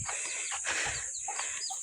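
Chickens being fed cluck softly nearby in short, scattered bursts over a faint steady hiss.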